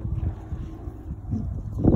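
Low, cold wind rumbles against the microphone in uneven gusts, moderately loud, swelling near the end.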